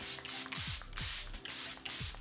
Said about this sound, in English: I'm gonna set the face with the Charlotte Tilbury Airbrush Flawless Setting Spray